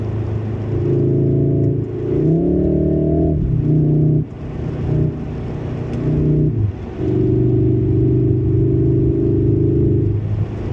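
A 2020 Volkswagen Golf R engine revs loudly and close, with steady mid-pitched engine tone rising and falling across several throttle blips, and no talk over it.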